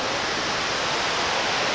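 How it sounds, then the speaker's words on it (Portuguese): Waterfall at Tepequem, Roraima, a steady, dense rushing roar of falling water, loud and unbroken throughout, with no voices. "Por onde desce ali aquela água ali da cachoeira."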